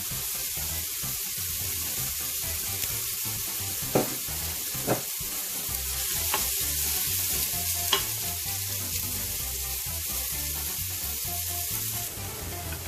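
Ginger and onion sizzle steadily in a hot pan while being stirred, with a few sharp scraping clicks of the spoon against the pan; no talking.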